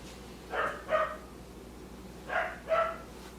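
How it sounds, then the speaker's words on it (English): A dog barks indoors at moderate distance in two pairs of sharp barks, spaced apart over a quiet background hum. "I had to get my dog to quiet down."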